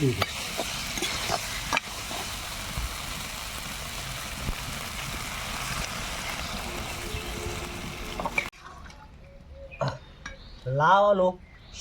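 Bottle gourd and potato curry sizzles steadily in a pan with stirring scrapes for several seconds, then the sizzle drops away, leaving quieter utensil clinks and a short spoken voice.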